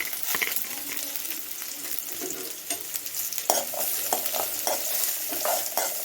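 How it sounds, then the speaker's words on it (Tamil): Onions and garlic sautéing in a pan for a village-style small-leaf spinach and lentil masiyal, a steady close sizzle broken by repeated scraping stirs of a spoon against the pan, with no talking. "வெங்காயம் வந்து கொஞ்சம் நல்லா வதங்கணும். இந்த அளவுக்கு நல்லா வதக்கி விட்டுருவோம்."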